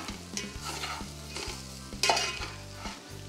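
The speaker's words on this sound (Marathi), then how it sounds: "हे छान परतून घेणार आहे आपण आता मसाल्याबरोबर पीठ पण." Spiced masala and gram flour sizzle steadily in hot oil in a pan for a potato curry, with a spoon scraping and stirring in a regular rhythm, close and fairly loud, no voices.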